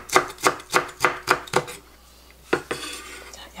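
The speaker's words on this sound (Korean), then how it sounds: "쪽파나 대파 조금 다져서." Knife chopping spring onion or green onion on a board in a home kitchen: six quick, evenly spaced crisp chops, a pause, then two more cuts, close and clear with no talking.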